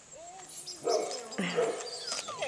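A puppy gives high, wavering whimpers that break into short yips and barks, close and fairly loud, across a couple of seconds.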